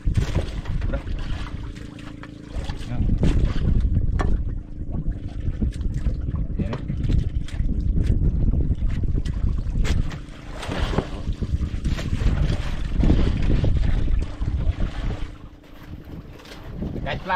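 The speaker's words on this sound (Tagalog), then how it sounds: "Malaki ng alon" Big waves slapping and churning against a boat at sea, with steady wind buffeting the microphone and low rumbling water throughout, loud and close, with people talking over it.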